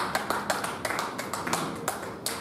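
A church congregation claps in rhythm during a sermon, a steady run of sharp, evenly spaced claps from many hands that stays at a moderate level throughout.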